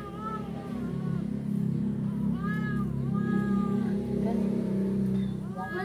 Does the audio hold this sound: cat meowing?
yes